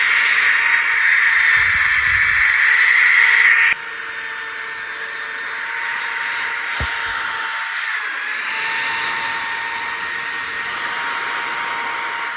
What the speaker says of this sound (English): I decided to wire wheel the bracket since it's already out and it was pretty corroded.